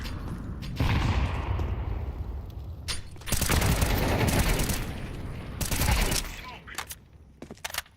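Grenade explosions and gunfire in a Counter-Strike tournament match, with two heavy, loud roaring blasts and crackling weapon fire around them in a dense, continuous game soundscape.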